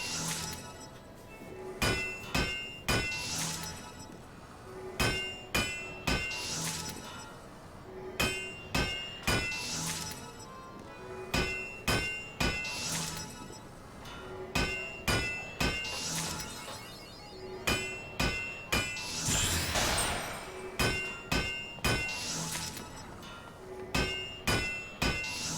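Hammer striking the tail of a bronze rivet, sharp ringing metallic blows in quick bursts of three to five hits, repeating again and again with short pauses between, loud and close.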